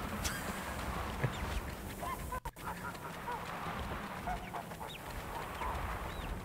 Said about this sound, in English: Oh no, the duck!